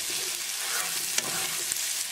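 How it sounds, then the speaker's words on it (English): Ginger garlic paste fries in a pan for a fish masala, a dense, loud, close sizzle running continuously with a couple of faint spoon taps. "Cook ginger garlic paste until the raw garlicky flavor is gone."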